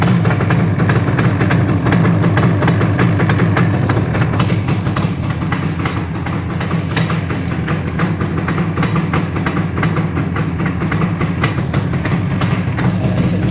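A Yamaha RD400 motorcycle engine runs with the choke on and the engine after an oil pump rebuild, a loud, close, steady idle with a throbbing low pulse and no change in pace.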